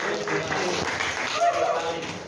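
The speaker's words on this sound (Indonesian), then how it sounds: "Oke, tepuk tangan." An eighth-grade class in an Islamic religious education lesson claps briefly as a group, a short, moderately loud patter of hands mixed with a voice talking over it.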